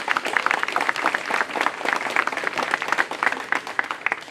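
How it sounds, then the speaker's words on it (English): A round of applause for a young deputy foreign affairs minister at a formal ceremony, dense crowd clapping with uneven rhythmic peaks, sustained for several seconds without talk. "May we also give her a round of applause."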